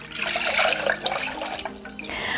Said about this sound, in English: So the next thing I'm gonna do is I'm going to add my 3 cups of water.